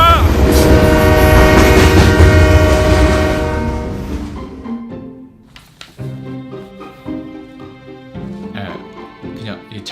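A train horn blares loudly with rumbling rail noise, then fades into quieter clatter and background sounds; the train sound is a stock effect added in editing rather than a real passing train.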